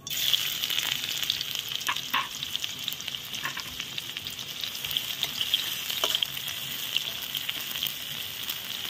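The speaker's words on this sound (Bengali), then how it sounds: "তেল গরম হয়ে গেছে, এটাতে আমি জিরের ফোড়ন দিয়ে দিব, গোটা জিরে। তারপর দিব পেঁয়াজ কুচি," Whole cumin seeds and chopped onion fry in hot oil, giving a steady close sizzle with occasional soft stirring clicks throughout, and no voices.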